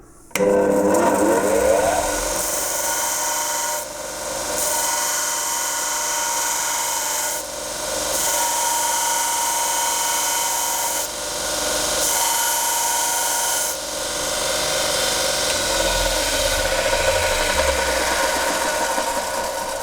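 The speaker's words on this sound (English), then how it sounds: "just rotate it until we taper just the top 1/8 of an inch is all we need" Belt grinder tapering the tip of a steel wood carver's punch, a loud steady abrasive hiss and whir running continuously, with brief dips as the punch is rotated against the belt, no talk.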